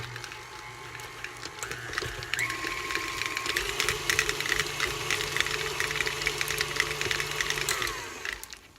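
An electric mixer whirs through cheeseball ingredients with Worcestershire sauce, a steady mechanical motor hum with rattling clatter from the bowl, close and continuous, fading out at the end.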